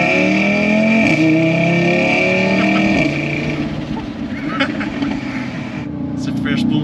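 A 550 hp Audi RS3 revs hard at the Nürburgring and climbs in pitch, shifting gears as it accelerates at full throttle, loud and close, with a voice briefly heard over it.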